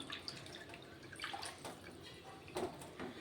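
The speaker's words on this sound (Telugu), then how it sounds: "అలాగే ఇప్పుడు సరిపడాన్ని వాటర్ వేసుకుందాము" Water added to a stuffed brinjal masala curry gravy, heard as a few faint splashes and drips close by with scattered clinks, no voices.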